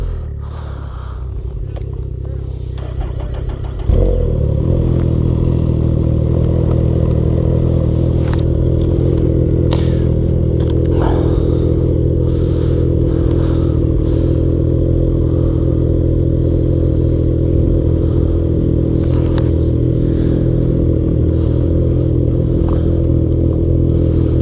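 Steady loud engine drone of a motorcycle cruising at night on a road trip from Maniwaki to Temiscaming in Western Quebec, starting up sharply a few seconds in and holding a constant pitch with wind and rattle.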